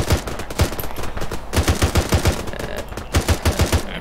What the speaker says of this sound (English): Still taking shots from the northeast.